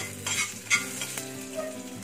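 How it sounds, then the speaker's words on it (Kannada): Mustard seeds crackle and sizzle in hot oil for a tempering of asafoetida and curry leaves for tomato chutney, a soft steady frying hiss with a few light pops and stirring scrapes, close and alone. "ಸಾಸಿವೆ ಚೆನ್ನಾಗಿ ಸಿಟ್ಲದ್ಮೇಲೆ ಹಿಂಗು ಕರಿಬೇವು ಸೊಪ್ಪು ಹಾಕ್ಕೊಂಡು ಒಗ್ಗರಣೆ ಮಾಡ್ಕೊಳ್ಳೋಣ"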